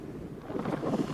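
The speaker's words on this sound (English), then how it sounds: "It's quite windy." Strong wind on an Alpine mountaintop, a brief gusty roar buffeting the microphone, loud and close, with no other sounds.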